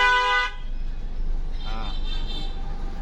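A car horn gives one loud blast at the start during a slow driving lesson on a road, followed by a steady hum of the moving vehicle and brief speech.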